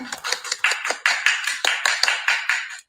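A single person claps by hand in a steady, fairly quick rhythm of about a dozen sharp, close claps, with no talking.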